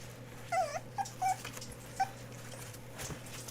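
Small puppies whimper faintly indoors, a few short high-pitched whines and yips at intervals over a steady low background hum.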